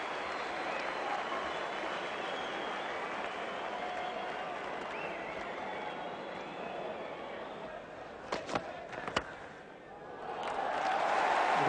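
A large cricket crowd of about 25,000 roars steadily at a Test match between Australia and New Zealand, a broad continuous wash of cheering that swells again near the end, with a few sharp claps or knocks partway through.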